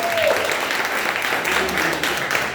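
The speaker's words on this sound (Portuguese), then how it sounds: "Uma salva de palmas, Senhor" A church congregation claps in steady applause, moderately loud and continuous throughout, with some voices mixed in beneath the clapping.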